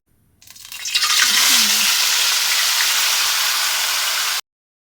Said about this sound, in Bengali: উল্টিয়ে পাল্টিয়ে রান্না করে নিলাম